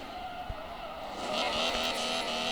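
In a racing video game, a fast car's engine whines while tires squeal and a few dull thumps sound as it tumbles and flips, building louder toward the end; no voices.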